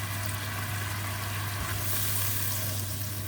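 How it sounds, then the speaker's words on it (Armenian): A sauce with liquid tomato paste fries in a pan, giving a loud, steady sizzle and hiss that holds unbroken throughout with no voices. "տապակում, ավելացնում եմ նաև տոմատի բացած մածուկ, հեղուկ"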